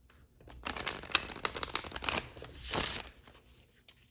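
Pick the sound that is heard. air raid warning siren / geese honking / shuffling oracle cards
shuffling oracle cards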